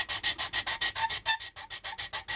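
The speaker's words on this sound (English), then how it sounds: "sand this down a bit. Ugh, what a sound." A plastic part from an AMT U.S.S. Enterprise model kit is sanded in quick, even back-and-forth strokes, about a dozen raspy scrapes close up with no voices.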